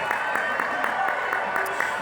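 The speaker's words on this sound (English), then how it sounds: "Give them a round of applause and thank them for their commitment to you" Graduation ceremony crowd at Liberty High School applauding parents and families: dense, continuous clapping from a large audience, moderately loud and steady, with sharp individual claps standing out and a voice faintly mixed in.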